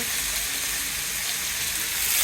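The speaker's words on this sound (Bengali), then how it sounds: "কালকে যে আমি বরবটি করেছিলাম সেগুলোই এখন ভাজি করতেছি। তেলে দিলাম, তেল দিয়ে ভাজি করবো" Long beans (borboti) frying in oil in a pan, giving a steady, close, even sizzle with no pauses and no voices.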